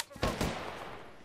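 Gunfire in Apex Legends: two sharp, loud shots in quick succession ring out and then decay into a fading echo tail.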